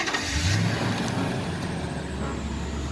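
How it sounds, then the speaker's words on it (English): A 2008-2010 Toyota Sequoia engine starting via remote start, with a brief crank and catch before settling into a steady low idle rumble, heard close and fairly quiet, with no talk. "Give it a couple seconds and the truck starts."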